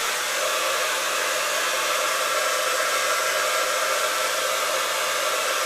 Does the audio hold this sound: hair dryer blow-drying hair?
yes